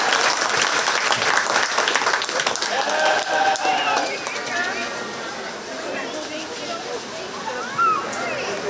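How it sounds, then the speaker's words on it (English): Audience at a 4-H sheep show at the county fair giving the exhibitors a big round of applause, dense steady clapping that slowly fades in the second half. "let's go ahead and give all four of those exhibitors a nice big round of applause"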